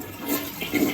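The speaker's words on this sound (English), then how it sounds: "Let's see if it's working this time. All right, there's water in the bowl." A toilet flushes, water rushing steadily through the bowl for the whole second at moderate level, with a brighter surge near the end and no talk.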